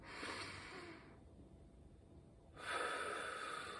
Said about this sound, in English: And then you can take a deep breath.